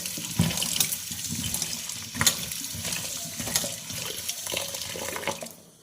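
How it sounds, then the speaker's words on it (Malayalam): Running water splashing steadily in a sink, with light knocks and rubbing as vegetables are rinsed under the flow. "നല്ലപോലെ കഴുകി എടുക്കുകയാണ്"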